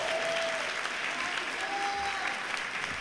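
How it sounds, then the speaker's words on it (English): Steady applause from a large Comic-Con 2012 audience at a Naughty Dog panel, loud and continuous throughout with no pauses or other sounds standing out. "round of applause."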